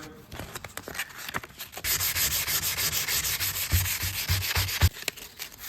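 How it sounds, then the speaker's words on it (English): An axe head is sanded with 150 grit sandpaper to take off surface rust, a close, steady rasping scrub that rubs back and forth in quick strokes and grows stronger partway through. "maybe some sandpaper, maybe a wire brush or two, or a steel brush, I should say, and see if that makes any difference. .150 grit"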